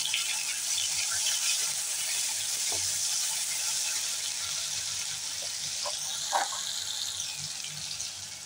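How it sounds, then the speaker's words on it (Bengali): Onion paste with ground ginger and garlic frying in a pan for a soybean masala, giving a steady, even hiss that runs throughout, with a few faint clinks over it. "এবার আমি পেঁয়াজ বাটাটা দিয়ে দিচ্ছি"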